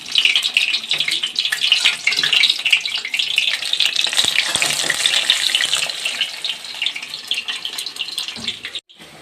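Cabbage spring rolls coated in batter frying in hot oil in a home kitchen, giving a steady, close hiss and crackle that runs throughout with no talking, fading briefly near the end.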